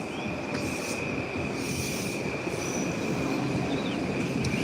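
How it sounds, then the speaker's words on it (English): A train rolls past with a steady, loud rumble and a sustained high metallic squeal from its wheels on the rails, continuous throughout with no talk. "See the train?"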